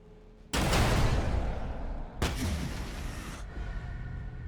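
Rocket volleys launched by T'au units in the Warhammer 40,000: Battlesector strategy game, fighting Necrons: two loud, broad blasts in quick succession, each a sustained roaring whoosh lasting about a second, with no talk over them.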